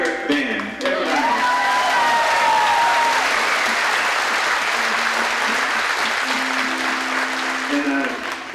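Enthusiastic audience applause greets a band, a dense, loud wash of clapping and crowd noise that swells quickly and holds steady, with sustained instrument notes ringing underneath and a bit of cheering.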